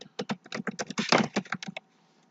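Fingers tap out a quick burst of about a dozen crisp keystrokes on a computer keyboard, close and clear, then the typing stops into near silence.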